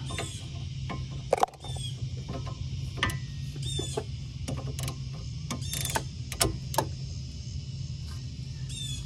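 A ratchet wrench works a nut loose on the driver-side control arm of a 2004 Chevy Malibu, giving repeated quick metallic clicking bursts close up, spread unevenly across the stretch over a low steady hum.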